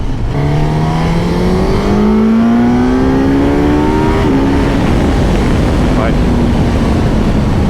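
A Suzuki GSX-S1000GX motorcycle engine drones steadily while riding, its pitch climbing smoothly as it accelerates, with constant wind roar over the microphone.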